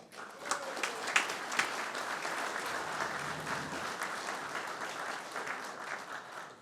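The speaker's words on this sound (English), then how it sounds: "give these guys a round of applause" A luncheon crowd of old-timers applauds the board of directors, a dense, sustained round of clapping from many people that holds steady throughout.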